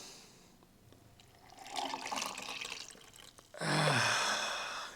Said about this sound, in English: And of course, the warm water.